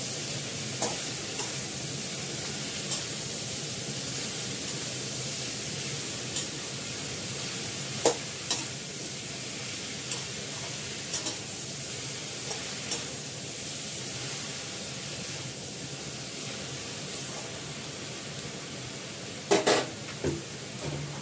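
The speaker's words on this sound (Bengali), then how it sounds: "ভালো করে নাড়াচাড়া দিয়ে একটু ঢাকা দিয়ে দেবো, এর থেকেই জল বেরিয়ে সেদ্ধ হয়ে যাবে।" Food frying and being stirred in a heavy iron kadai with green chillies and ginger paste, a steady close sizzle broken by occasional scrapes and clinks of the utensil against the pan, no voices.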